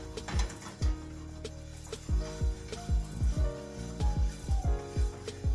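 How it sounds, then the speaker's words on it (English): Coffee beans rattle and tumble as they are stirred and shaken in a pan over medium heat while roasting, a steady run of rhythmic knocking scrapes and clatters close by. "Really want to keep the coffee moving around, keep stirring it, keep shaking it."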